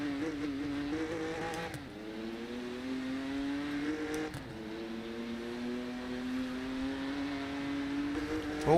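A BMW M2 race car in the Rennsport racing game at Monza sustains a loud, steady engine drone alone, pitch climbing through the gears with two brief shift dips.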